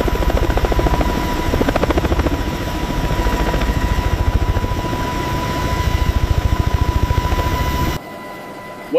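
CH-53K heavy-lift military helicopter in flight, a loud, steady, rapid rotor thumping with a deep engine drone that continues unbroken and then cuts off sharply near the end.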